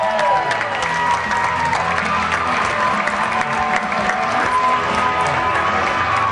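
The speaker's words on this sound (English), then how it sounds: "A big round of applause for our bridesmaid, Jennifer Lay, escorted by usher Russell Ica" A crowd at a wedding reception applauds steadily throughout, dense clapping with some cheering mixed in, filling the space at a constant level.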